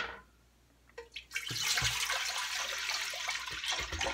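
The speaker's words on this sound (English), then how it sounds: "I'm just going to pour this in my container." Homemade anti-viral liquid soap is poured into a container at the stove, a steady splashing, gurgling pour starting after a few soft knocks and continuing close and full for several seconds.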